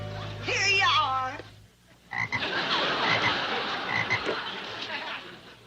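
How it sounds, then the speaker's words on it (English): A frog croaks close and loud in a short burst, then after a brief pause a rougher, noisier stretch of croaking and rustling follows. "It's a frog."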